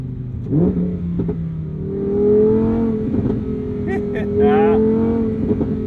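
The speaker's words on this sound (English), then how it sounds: "Here's your moment of zen with some gratuitous overrun." The engine of a Lamborghini Huracan Sterrato holds a revving drone before lifting off into overrun, with a scatter of crackling exhaust pops around the 4,000 to 5,000 RPM range, close and moderately loud.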